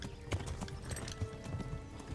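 Horse hooves clip-clopping at a steady gallop in the medieval game Kingdom Come: Deliverance, rhythmic and moderately close, with a faint whinny.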